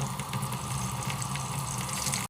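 Hot tap water runs steadily into a sink for washing dishes, a continuous loud rushing splash close by with no break, cutting off abruptly at the end.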